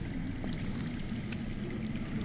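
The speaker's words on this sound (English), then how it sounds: "I hear water. From underground." Underground water flowing in a Game of Thrones video game, a faint, steady rushing trickle with low murmuring churn, continuous and distant-sounding, with no voices.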